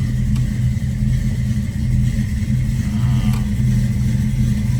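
A 1974 Dodge Challenger engine idles steadily, a loud, continuous low rumble close by with no noticeable revving or talk.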